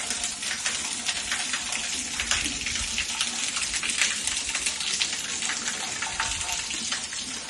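Water splashes continuously from a small decorative waterfall in a house yard in Masazır, a near, even patter with crisp droplet detail and no speech.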